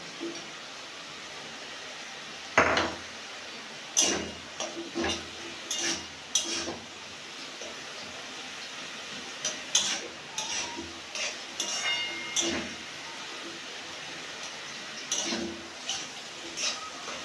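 Spoon scraping and stirring in a pan as a large boiled potato is mashed into pumpkin leaf greens, with irregular close clinks and scrapes over a quiet kitchen background.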